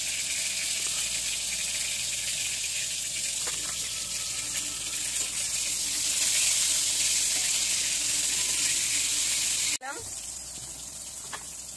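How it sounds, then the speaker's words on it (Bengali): Eggplant is lightly frying in a pan, with a continuous hissing sizzle that swells slightly midway, a few soft knocks, and a sharp break before the hiss resumes. There is no talking over it. "বেগুনটা ভাজা হোক"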